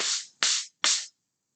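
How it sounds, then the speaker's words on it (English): Sand blocks are rubbed together three times in an even rhythm, each a short, close, raspy scrape that fades out, followed by silence. "Remember the sand blocks sound like this."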